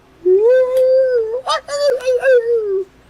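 A human voice imitates a coyote's yapping, a sustained howl that breaks into a run of short, choppy yelps before trailing off, loud and close.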